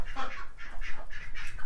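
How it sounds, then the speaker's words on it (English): Farmyard ducks quack in a quick run of nasal, honking calls, fairly close and clear, with no talking over them. "The duckies are doing good too."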